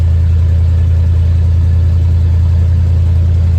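A truck cruises down the highway towing a 1979 Dodge D200, its engine a loud, steady low drone with constant road noise and no speech.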